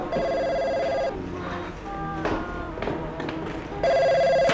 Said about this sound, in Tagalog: May telepono, ring ng ring, oh!